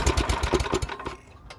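MTD snowblower engine being cranked on full choke with low throttle, a close, loud rapid chugging that turns over for about a second without catching, then fades away.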